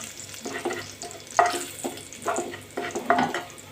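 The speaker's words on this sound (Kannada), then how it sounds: "ಸ್ವಲ್ಪ ಗರಂ ಮಸಾಲ, ಸ್ವಲ್ಪ ಖಾರದ ಪುಡಿ ಹಾಕ್ಕೊಂಡು ಫ್ರೈ ಮಾಡ್ಕೊತಾ ಇದ್ದೀನಿ ಇದೇ ಎಣ್ಣೆ ಒಳಗೆ." Garam masala and chilli powder fry in oil with soft sizzling, broken up by several scraping stirs of a spoon in the pan. The sounds come close and fairly quiet.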